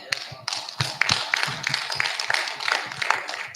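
A conference audience claps in an uneven scatter of sharp hand claps, moderately loud and close, a short burst of applause with no voices over it.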